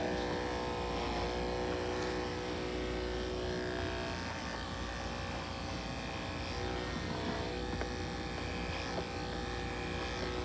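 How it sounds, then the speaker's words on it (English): An electric clipper buzzes steadily and loudly up close while trimming a 4-H goat's hair, a constant whirring drone that holds without pause throughout. "You're gonna have to hold the clipper in different ways near the tail"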